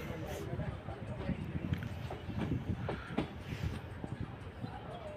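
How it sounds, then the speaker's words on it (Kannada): A DEMU passenger train pulling out of Yelahanka Junction on the KSR Bengaluru to Kolar route rumbles heard from inside the coach, with irregular wheel clicks and knocks over the tracks and faint voices in the background. "ಯಲಹಂಕ ಜಂಕ್ಷನಿಂದ 2 ನಿಮಿಷ ತಡವಾಗಿ ನಮ್ಮ ಟ್ರೈನ್ ಹೊರಟಿದೆ."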